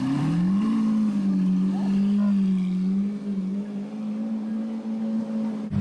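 A Lamborghini Aventador engine revs up, then holds a loud, steady droning pitch that wavers slightly before fading a little.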